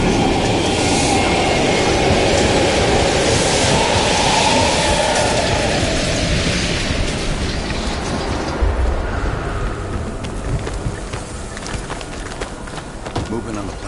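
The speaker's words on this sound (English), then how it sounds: "We can use a train to slip past." A train passes in the Call of Duty Cold War campaign, set in an abandoned East German station, as a loud, close rumbling clatter that slowly recedes and thins out, with voices in the background.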